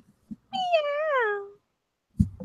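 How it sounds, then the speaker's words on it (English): A pet cat lets out one clear, drawn-out meow close to the microphone, sliding down at the end, with soft handling noises before and after. "He has the cutest meow."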